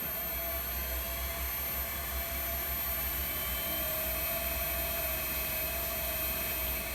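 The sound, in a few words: lathe spinning up to higher RPM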